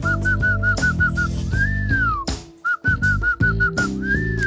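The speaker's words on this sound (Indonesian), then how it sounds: "Lu siul terus gong, buat nerbangin layangan." A person whistles a quick run of short repeated notes, then a long rising-and-falling tone, repeating the pattern over steady background music.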